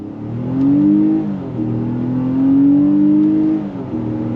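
A 2024 Nissan Pathfinder with a paddle-shifted 9-speed accelerates hard, the engine note climbing, dropping briefly at a shift around mid-clip, then rising again, heard from inside the cabin.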